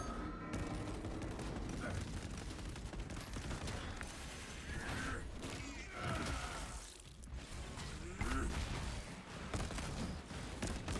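Gunfire is aimed at exposed cooling rods in a video game, a dense, sustained barrage of shots mixed with mechanical game noise and a voice speaking over it.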